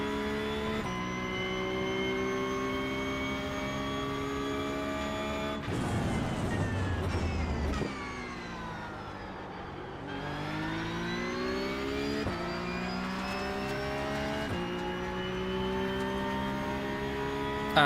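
Porsche Cup race car engine at Red Bull Ring in the iRacing game, a loud continuous high-revving whine that climbs through the gears, dropping sharply on upshifts and downshifts around mid-run, with no talking.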